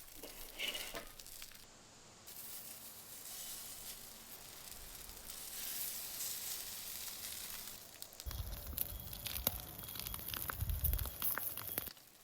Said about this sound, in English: I ended up going in and out of the pan with these final largest belly slabs in order to cook the skin more evenly.